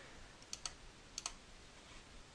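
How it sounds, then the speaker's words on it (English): Computer keyboard keys click in two quick pairs, faint and close, against a quiet background hiss. "hit M on the keyboard"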